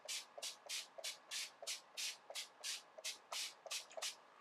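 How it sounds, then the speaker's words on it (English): Rapid bursts of makeup setting spray hiss one after another onto a face, about a dozen short pumps in a steady rhythm, close and fairly soft. "I'm just going to spray my whole entire face with this."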